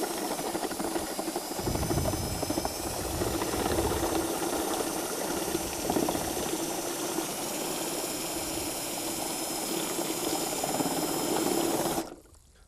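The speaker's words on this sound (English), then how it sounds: "So I'm just going to give this a quick drill." A power drill whirs steadily for about twelve seconds, mixing lime wash with a sloshing, grinding motor sound, then cuts off abruptly.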